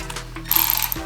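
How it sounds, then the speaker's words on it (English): An electric ratchet whirs on a bolt atop a Ford Focus transmission, a short close mechanical buzz followed by a rapid clicking burst for about half a second before the motor note drops off. "Do you have my electric ratchet?"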